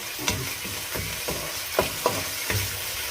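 Filipino home cooking in a pan for a family Sunday meal sizzles steadily while a utensil stirs and scrapes in several distinct strokes, close by and moderately loud, with no talking.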